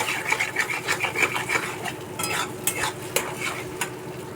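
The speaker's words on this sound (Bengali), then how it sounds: "নুন আর হলুদ দিয়ে আমি একটু ঝুড়ি ভাজা করে নেব" Two eggs with salt and turmeric being scrambled in a frying pan: a soft sizzle under quick, uneven scraping and stirring strokes, close by, with a few sharper clicks of the utensil against the pan toward the end.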